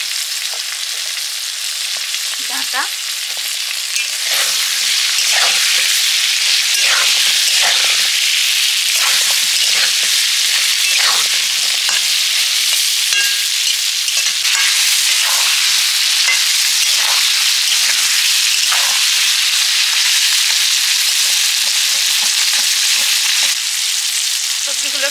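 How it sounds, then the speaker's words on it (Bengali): Potato and eggplant pieces sizzle loudly in hot oil in a pan, a dense continuous hiss with frequent crackling pops and occasional stirring, close and sustained; a voice briefly speaks a word over it. "আলুটা কিছুটা ভাজা হতে একটু লবণ দিয়ে বেগুনগুলো দিয়ে দিয়েছি।"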